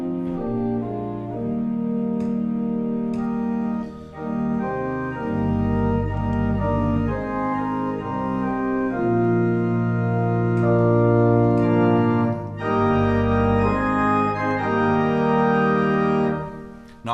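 Church organ plays the hymn "Were You There" on progressively changing preset registrations, sustained chords and melody lines swelling and thinning across phrases, loud and alone with no talk.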